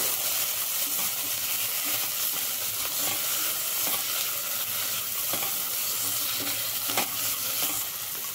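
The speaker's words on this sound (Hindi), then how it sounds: "अब हम डाल देंगे ग्रेट किया हुआ गाजर, टमाटर। गाजर और टमाटर को भी भूनेंगे।" Grated carrot and tomato stir-fry in a pan for a fasting buckwheat khichdi, a steady close sizzle and hiss with soft stirring scrapes throughout and no talking.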